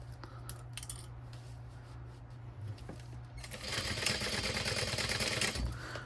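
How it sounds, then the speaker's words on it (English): A sewing machine stitches a piece onto a mini backpack, starting with quiet clicks and handling sounds before a faint, rapid, steady mechanical whir for the last couple of seconds. "I'm going to stitch this one on."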